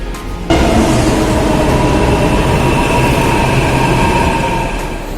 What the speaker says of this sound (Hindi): अब मेट्रो आ गई है